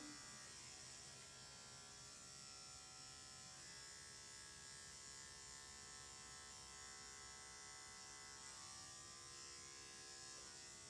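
Electric dog clippers fitted with a 10 blade running steadily while shaving a dog's sanitary area, a faint continuous high buzz with no break.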